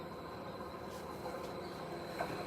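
Steady rumble and hiss from inside a moving train, with faint squeals and rattles over a constant low drone and no talking.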